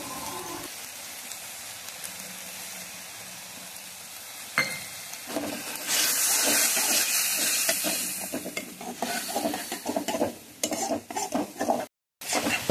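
Spice paste with dried red chilli powder and water sizzles and fries in a pan as a tangra fish curry is made, with steady scraping and stirring strokes building louder toward the end, no talking.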